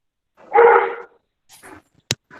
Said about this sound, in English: he's on the terrace and he keeps barking whenever he sees monkeys around